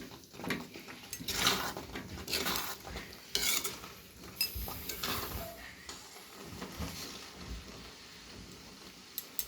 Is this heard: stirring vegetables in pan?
yes